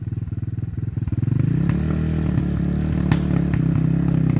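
An enduro motorcycle rides over slanted logs, its engine loud and close with a pulsing idle that swells into steady revving as the bike climbs, plus a few faint clatters and thumps.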